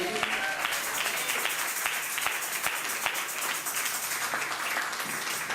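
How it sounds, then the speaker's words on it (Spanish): A church congregation applauds steadily throughout, a dense, even wash of clapping at a moderate distance with no talk over it. "No le dé un aplauso fuerte al Señor Jesús."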